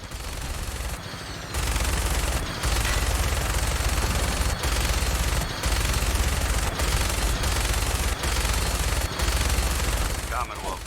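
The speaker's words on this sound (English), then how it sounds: "That minigun in front of you is loaded and ready to fire." A minigun mounted on a vertibird in the Fallout 4 VR game fires in long, loud, continuous roaring bursts broken by brief gaps, dense rapid shots filling the whole clip.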